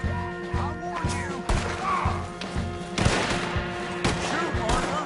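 Gunshots in the Western action game Red Dead Redemption 2, sharp cracks spaced irregularly about every second over a busy background, with voices talking between shots.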